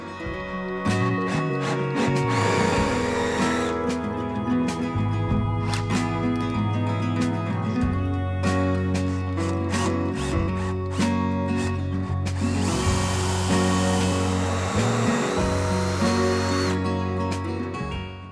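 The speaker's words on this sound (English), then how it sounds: "put a 3/8 inch counter bore in here so that the head won't stick up above the beam" Power drill boring a 3/8 inch counterbore into a wooden deck beam during wooden boat building, a loud continuous whirring grind that holds steadily for most of the clip, with tone shifts as the bit bites deeper and no talking.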